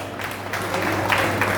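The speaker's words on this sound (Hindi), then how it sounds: "एक बेर जोरदार ताली।" Loud, sustained applause from an audience welcoming a guest at a Maithili-language felicitation ceremony, a steady wash of clapping throughout with a low hum underneath.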